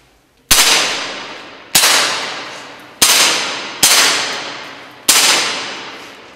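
Five sharp, loud air gun shots fire one after another at a shooting range at an unhurried, fairly even pace, each cracking out and trailing off into a short echo before the next.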